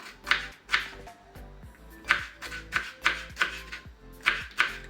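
Sharp knife chops through peppers on a cutting board, a quick series of crisp strikes in uneven bursts, close and clear with no talking.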